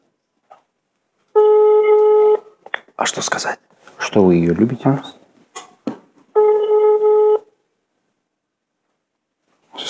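Two steady electronic telephone call tones, each about a second long, sound several seconds apart while a phone call to a mother is placed. People talk and laugh in the gap between them.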